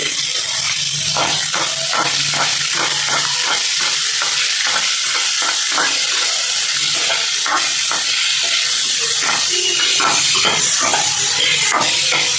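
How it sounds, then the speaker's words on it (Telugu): Chopped onions and green chillies sizzle and crackle loudly as they fry in a hot oil tempering, with steady hissing and frequent stirring scrapes throughout. "తరిగి తరిగి పక్కన పెట్టుకున్న ఉల్లిపాయ ముక్కలు పచ్చిమిరపకాయ ముక్కలు అనేవి ఫ్రై అయిన తాలింపులో వేసేసుకుంటున్నాము"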